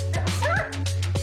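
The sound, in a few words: guide dog barking and whimpering at training school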